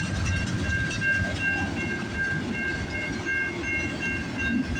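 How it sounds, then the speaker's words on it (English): A CN freight train with five locomotive units rolls steadily past on a snowy morning, a loud, continuous close rumble of wagons with sustained metallic squealing tones running throughout. "Symbol on this train is CN A434, I think."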